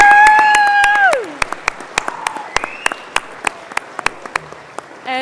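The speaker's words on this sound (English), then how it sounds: "give a massive round of applause for your parents and people in the audience tonight" A graduation audience applauding, heard as loud claps at first, then sparse separate claps, under a loud whistle-like tone that glides down at about the one-second mark.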